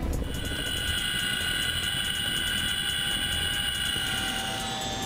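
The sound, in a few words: Chinook helicopter flying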